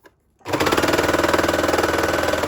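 Sewing machine stitching the waistband of a Sabrina sports bra, starting abruptly after a brief quiet moment and then running in a fast, even mechanical rhythm, loud and close.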